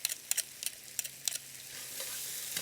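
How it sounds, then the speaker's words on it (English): Pressed garlic sizzles steadily in a pot for a one-pot chicken and spicy rice dinner, with sharp scraping stirs of a utensil recurring in quick bursts at the start. "we're just going to fry this until it becomes nice and fragrant"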